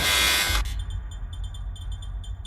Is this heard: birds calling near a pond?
no